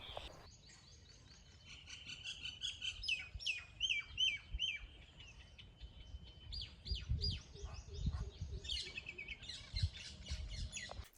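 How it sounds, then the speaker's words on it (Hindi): Many small birds chirp and trill in quick overlapping calls around the quiet grounds of Siddhnath Mahadev temple in Surat, a steady chorus over soft low background noise, no talking. "सिर्फ ये पक्षी की आवाज तो सुनिए"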